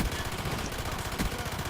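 SMGs fire in rapid, dense automatic bursts in the Call of Duty Black Ops team deathmatch map Drive-In, with loud, continuous gunfire filling the short moment and no talk.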